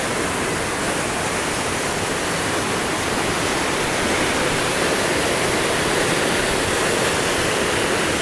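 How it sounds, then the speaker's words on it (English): Waterfall in Cheyenne Canyon, a close, loud, steady rush of falling water that fills the whole clip without pause. "And here's where the waterfall starts."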